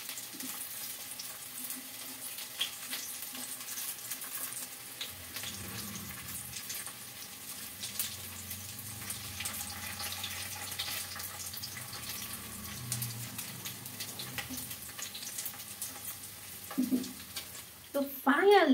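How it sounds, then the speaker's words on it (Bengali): Singaras (samosas) shallow-frying in oil in a pan and being turned, with a continuous soft sizzle and crackle, close by, and a few louder clatters near the end. "যেহেতু আমি ডুবো তেলে ভাজছি না, তো আমাকে একটু এপাশ ওপাশ উল্টেই ভাজতে হবে।"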